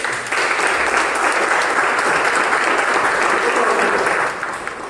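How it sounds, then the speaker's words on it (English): A meeting audience at a speech marathon claps steadily for about five seconds, a dense, even wash of hands that starts quickly and tapers off at the end. "Can we have a round of applause for all of them?"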